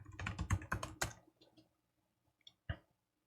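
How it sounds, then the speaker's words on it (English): Rapid keystrokes on a computer keyboard as a password is entered, a quick burst of close clicking taps for about a second, then a few isolated key presses after a pause. "I'll type in my super secret password"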